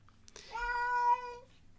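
A house cat lets out a single drawn-out meow, close and clear, rising then fading over about a second with no other sounds around it.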